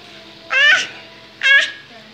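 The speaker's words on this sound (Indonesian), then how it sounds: "Kucing." Two separate meows from a house cat, close and fairly loud, each about a quarter second long with a rising-falling pitch, divided by a short pause over quiet room background.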